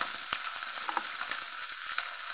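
Steady crackling sizzle of oil in a frying pan, continuous with scattered sharper pops, fairly close and even in loudness.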